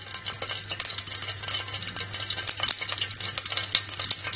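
Neem leaves and dried red pepper frying in hot oil for Gujarati kadhi, a steady close sizzle with crackling pops and light stirring throughout, no talk.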